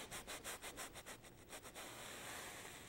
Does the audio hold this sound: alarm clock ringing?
no